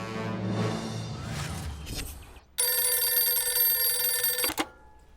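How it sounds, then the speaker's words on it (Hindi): After a brief muffled passage in a Hindi TV drama, an electronic telephone ring bursts in loudly and trills steadily for about two seconds before cutting off. "मानव, कमिश्नर सर को फोन लगा।"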